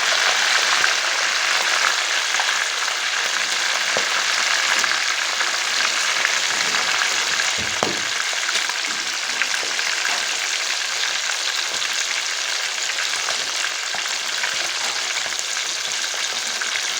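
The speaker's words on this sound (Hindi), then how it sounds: "इतनी देर में हम फ्राई कर लेते हैं अपने पीस को" Chicken pieces fry in hot oil over high heat, a loud, steady crackling sizzle that runs unbroken throughout, close by, with one brief low knock partway and no speech.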